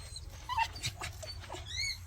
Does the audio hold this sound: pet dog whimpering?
yes